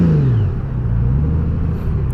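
A truck rumbles past with a descending engine drone, loud and near at first and then fading into a steady low roar.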